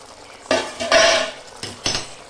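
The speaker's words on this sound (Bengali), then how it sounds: "মটরশুঁটির পুরটা বানানোর আগে থেকে কড়াইয়ের ঢাকনাটা খুলে দেখে নিই যে" A metal lid comes off a kadai of aloo dum with a few close metallic clanks and rattles, in short bursts separated by brief quiet, with no talking.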